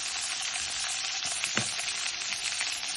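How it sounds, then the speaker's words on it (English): Butter sizzles in olive oil in a pan, a steady close hiss and crackle with a brief stir or scrape in the middle. "In my pan, I just move to the side a little bit like this. Add a pat of butter to my olive oil."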